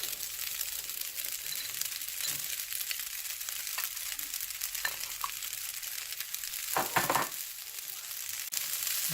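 Frozen peas and carrots stir-frying in a pan of pork fried rice, a steady hiss of sizzling with occasional scraping stirs, one louder burst near the end, no voices.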